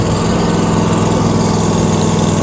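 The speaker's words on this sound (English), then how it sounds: "little bit of throttle, little bit of choke, start it right up." A Kioti stand-on mower engine idles steadily on a cold day, a loud, close, continuous rumbling drone with no talking over it.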